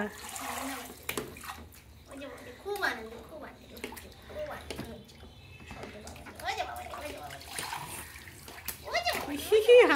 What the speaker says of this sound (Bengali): দিদিভাই রাতে আজকে স্নান করছে